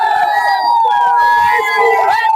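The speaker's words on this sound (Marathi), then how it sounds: "बरेच उमेदवार विजयी झाल्यानंतर समोर येत आहेत आणि जोरदार जल्लोष सुरू झालेला आहे" Crowd celebrating as winning Zilla Parishad and Panchayat Samiti election candidates appear: a brief, loud burst of shouting and cheering voices close by, with strained, sustained tones over a busy babble.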